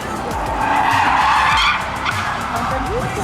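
Formula E race car at the Monaco E-Prix, a high electric whine swelling as it passes close by and then fading, with voices of onlookers talking over it.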